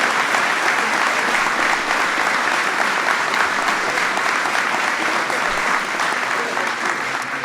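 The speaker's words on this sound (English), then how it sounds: "That's worth applauding." Steady, dense applause from an audience at the White House honoring the Villanova Wildcats, the 2016 NCAA men's basketball champions, sustained loudly and evenly throughout without a break.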